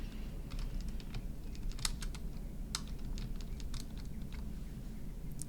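Rapid, light clicking of keys on a computer keyboard, in irregular bursts of taps over a low steady room hum, with no talking.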